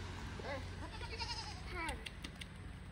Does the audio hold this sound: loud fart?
no